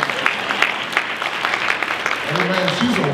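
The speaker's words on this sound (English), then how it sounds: "I want to applaud our executive director tonight" A crowd at a 50th anniversary community reception applauds the executive director, a steady wash of clapping across the clip with a voice speaking over it toward the end.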